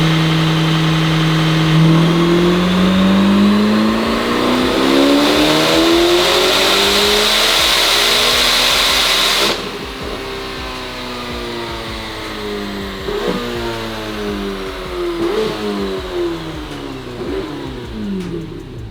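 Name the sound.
Corvette ZR1 with high flow cats doing a power run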